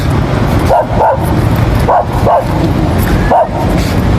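A dog barks in loud, sharp yips, five or six of them in uneven bursts, close by over a constant rushing background at a fishing spot.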